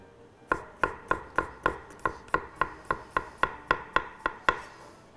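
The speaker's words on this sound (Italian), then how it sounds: "Uno spicchio d'aglio che affetto" A knife slices a garlic clove on a cutting board in an Italian kitchen, fourteen crisp evenly spaced taps, close and clear with nothing else around them.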